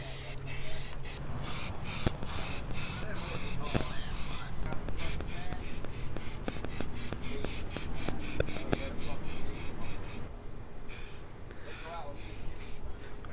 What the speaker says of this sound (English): you want to spray about, I'd say, a foot away from the plastic or whatever